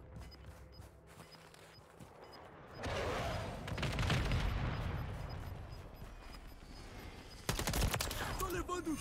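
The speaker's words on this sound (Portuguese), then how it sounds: "dando tiro aqui!" Gunfire bursts in the video game Call of Duty: Modern Warfare III, a dense rattling fusillade swelling from about three seconds and a sharp fresh volley near the end, with a player's voice speaking over parts of it.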